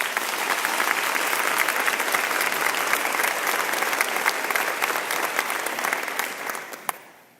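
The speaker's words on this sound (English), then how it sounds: "So let's give them another round of applause." A large audience of teachers at a school district gathering gives a full round of applause, dense sustained clapping that stays loud for several seconds and then tapers off quickly at the end.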